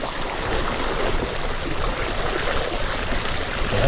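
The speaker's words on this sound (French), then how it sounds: "Là c'est carrément une rivière quoi." Water rushes across a gravel road like a stream, a steady, loud broadband gush that runs continuously without voices.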